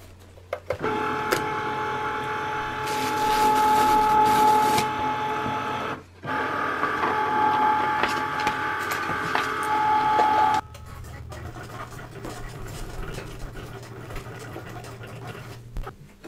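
A craft cutting machine runs through glitter iron-on material for an apron project, its motor whirring and clattering steadily for about ten seconds, then stopping to a quieter background hum.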